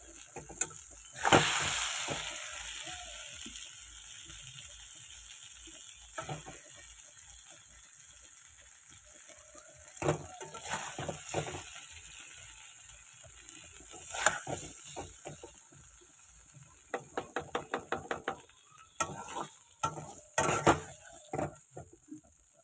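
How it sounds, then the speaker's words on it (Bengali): Pointed gourd sizzles quietly in hot oil while a spatula scrapes and clicks against the pan now and then; no one speaks. "দেখো কেমন তেল ছাড়ছে, এরকম পটল দিয়ে তেল ছাড়ছে।"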